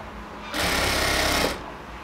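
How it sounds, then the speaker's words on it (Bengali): An electric sewing machine runs a fast, close, buzzing burst of about one second, double stitching the waistband of a ladies' pant, set against quiet room noise. "পুরো কোমরটাকে এবার আমরা হচ্ছে আবার আরেকটা সেলাই দিয়ে ডাবল সেলাই দিয়ে দিব"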